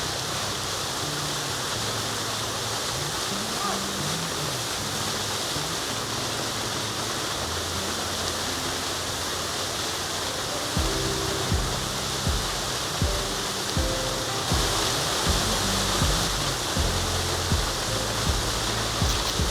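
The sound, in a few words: river water flowing near Ukta waterfall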